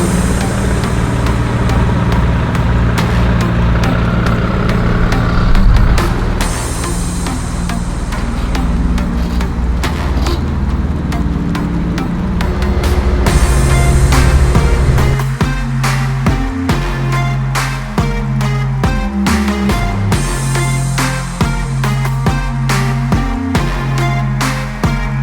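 MAN TGM 18.250 refrigerated rigid truck with a 6.9 litre straight-six diesel, driving on the road: a loud, continuous low engine drone that shifts pitch as it moves, with rattles and clicks in the cab.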